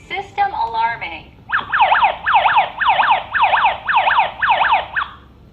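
KERUI home security alarm siren wailing in a steady repeating rise-and-fall pattern, loud and close, about eight cycles following a brief synthesized voice announcement.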